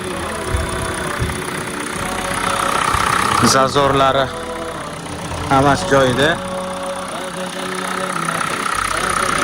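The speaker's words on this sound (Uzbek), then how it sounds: "Motor yaxshi ishlayapti." A used car engine idles steadily at close range, a continuous low hum with a faint knock, while someone talks over it in short bursts.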